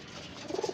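Racing pigeons give a few soft low coos near the end, faint and close, over quiet background noise.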